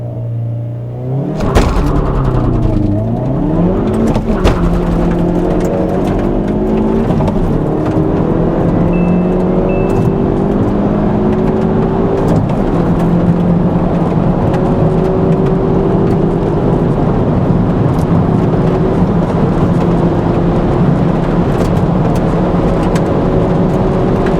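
A Hyundai car rolling on Pirelli P Zero tyres, its engine note climbing loudly through rising revs while steady tyre and road roar carries underneath, close and continuous throughout.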